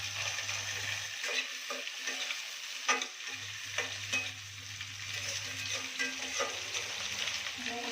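Masala paste of ginger, tomato and onion sizzles in a pan with steady frying hiss, broken by intermittent stirring scrapes and a low hum that drops out briefly, fairly quiet and close.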